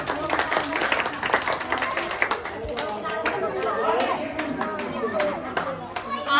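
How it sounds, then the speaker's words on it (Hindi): Crowd of children and adults clapping and chattering at an outdoor street play on plastic-free environmental awareness, a continuous burst of applause mixed with excited kids' voices and movement. "एक बार जोरदार तालियां।"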